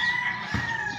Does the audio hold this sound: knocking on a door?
no